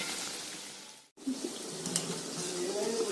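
Veg Manchurian balls frying in a pan of hot oil give a steady sizzle that dips out briefly, then resumes with soft stirring and bubbling.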